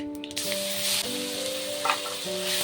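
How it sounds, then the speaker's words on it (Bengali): Ground spice paste hits hot oil with crackling curry leaves and mustard seeds in a pan, giving a steady close sizzle with a sharp burst at the start, during a raw-banana curry cook. "এবার এর মধ্যে দিয়ে দেবো যে মশলাটা বেটে রেখেছিলাম দিয়ে দেবো"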